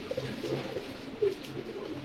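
Pigeons at a Bengali pigeon seller's loft, racer and colouring Giribaz breeds in pairs, coo softly in a low, steady murmur with a couple of slightly louder calls, close and fairly quiet, with no talking.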